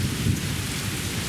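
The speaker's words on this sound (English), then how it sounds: "Yeah, the rain does seem kind of loud." Steady, loud rain pours throughout a video game's spooky courtyard scene, with low rumbling thunder rolling underneath the dense hiss, no voices present.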